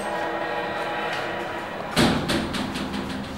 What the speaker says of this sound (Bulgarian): Ето, вратата оттам се отвори.